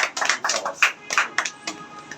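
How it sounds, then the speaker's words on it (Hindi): A small group clapping for Gulshan at a celebration of his Daroga selection, a dozen or so loose, uneven claps at close range with no talk. "सब एक बार जोरदार ताली गुलशन जी के लिए।"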